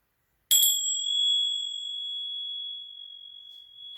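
A single gong stroke during a sound-healing session rings out alone with a sharp attack, then a long, steady, bright tone that slowly fades over several seconds.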